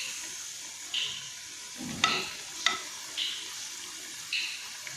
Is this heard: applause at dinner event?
no